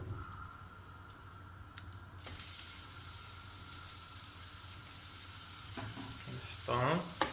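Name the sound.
aubergines frying in a pan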